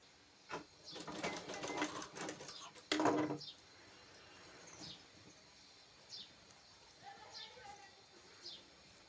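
A sewing machine stitches the sleeve of a blouse, running in short, quick, close bursts for a few seconds. Quieter handling noises and faint clicks follow.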